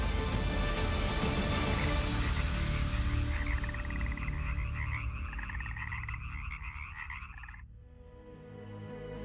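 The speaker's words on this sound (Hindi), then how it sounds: "पानी पसंद करने वाले ये मेंढक" Many frogs croak together in a dense, rapid chorus of rattling calls that fades out near the end, with no voices.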